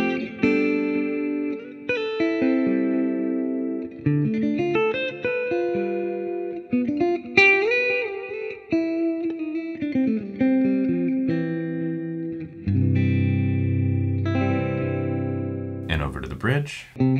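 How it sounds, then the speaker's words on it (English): An electric guitar on its middle pickup plays a clean melodic phrase with delay repeats trailing each note, through a Fractal FM3, followed by sustained chords and a brief scratchy noise at the end. "So here's some delay on the middle pickup."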